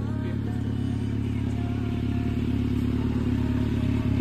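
Motorcycle fitted with an Arrow titanium aftermarket exhaust idling, a steady low engine rumble that stays even throughout, with faint clatter and no revving.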